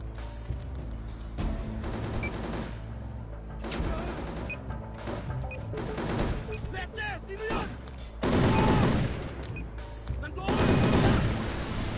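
Rapid bursts of gunfire from Soldier of Fortune: Payback, a shooter video game, fire throughout, with several loud heavy volleys over busy game sound and a voice talking along.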